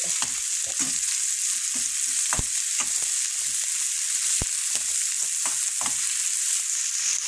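Onions sauté in a very small pan, giving a loud, steady sizzle with frequent scraping and stirring clicks throughout, close up and without any talk.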